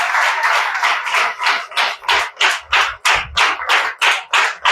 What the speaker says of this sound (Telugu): చప్పట్లు కొట్టి దేవుని మహింపరచు